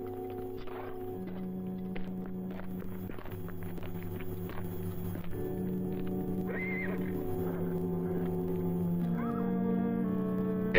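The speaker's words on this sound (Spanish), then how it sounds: "Ese era el caballo de mi padre." A horse whinnies and snorts near a ranch house in an old Mexican western, over a sustained musical score, with a few soft hoof and movement sounds and no talking.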